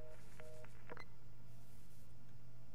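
A telephone rings in the Black Ops Zombies game "Five": a few faint, short electronic tones close together, then a steady low hum.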